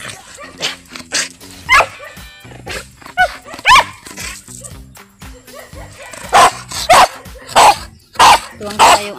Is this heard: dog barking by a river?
yes